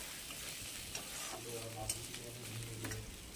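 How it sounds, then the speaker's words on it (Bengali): Turmeric being stirred with ginger and cumin in a pan, a soft low sizzle with faint scraping of the spoon, quiet and close throughout. "হলুদটা দিয়ে ভালো করে নাড়াচাড়া করব যাতে হলুদের গন্ধ না আসে"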